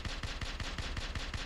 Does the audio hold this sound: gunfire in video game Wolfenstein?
yes